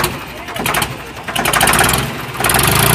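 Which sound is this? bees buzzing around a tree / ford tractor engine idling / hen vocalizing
ford tractor engine idling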